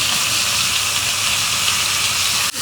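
Large pomfret fish frying in a hot pan of oil give a loud, steady, close sizzling hiss that cuts off abruptly at the end.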